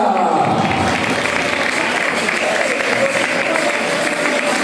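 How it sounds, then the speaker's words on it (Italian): Dense, steady applause from a crowd at a men's volleyball final fills the whole stretch, loud and continuous with a broad noisy texture and some voices mixed in. "E ora forte l'applauso per Volley Loggia!"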